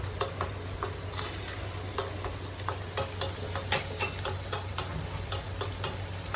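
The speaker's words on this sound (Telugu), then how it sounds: "జీడిపప్పు కిస్మిస్ని నెయ్యిలో రోస్ట్ చేసుకుంటాము" Cashews and raisins roast in hot ghee for carrot halwa, a steady close sizzle broken by frequent light scrapes and clicks of stirring, with no talking.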